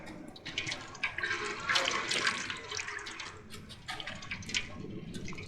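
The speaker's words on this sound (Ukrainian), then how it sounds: "Поставили, щоб вода крапала." Continuous watery splashing and trickling with soft drips as water drips into a bowl in a video game, fairly close and steady throughout, no voices.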